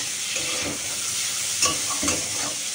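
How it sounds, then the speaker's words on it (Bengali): Jackfruit seeds stirred and fried in a pan for a jute-leaf curry, a steady close sizzle with soft scraping strokes and a few light clinks of the spatula against the pan. "কাঁঠালের দানাটা দিয়ে আবার একটু নাড়বো চাড়বো"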